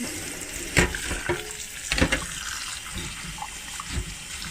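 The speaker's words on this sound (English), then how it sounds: "So we'll wash it a couple times till it's all the dirt and everything comes out" Mung dal being rinsed in water by hand in a home kitchen, with close splashing, sloshing and several sharp clattering swishes of grains and liquid at irregular intervals.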